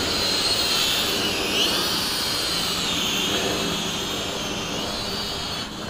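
A Syma X5C 2.4G quadcopter in flight, its small motors giving a steady high-pitched buzzing whine that wavers slightly in pitch as it maneuvers, close and continuous with no talk.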